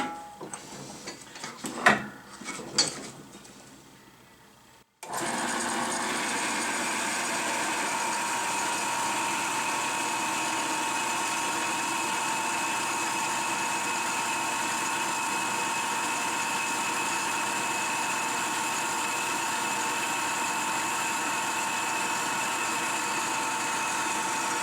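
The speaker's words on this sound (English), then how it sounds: "so this is my 7x12 bandsaw. It's got a hydraulic downfeed." A 7x12 metal-cutting bandsaw with hydraulic downfeed starts after a few handling clunks, then runs with a steady loud motor drone and blade whine for about twenty seconds, close and continuous, no voices.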